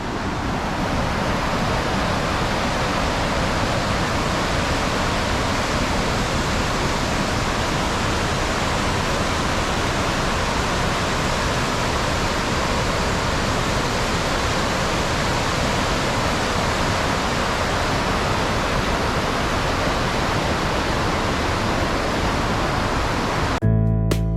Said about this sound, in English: Just wanted to share some of this raging river